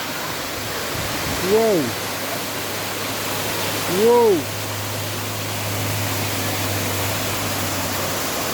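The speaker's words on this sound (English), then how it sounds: "Now I'm going to show you the another waterfall." A mountain waterfall in Duki District pours down with a steady, close rushing roar of water, while a man exclaims twice in amazement over the constant wash.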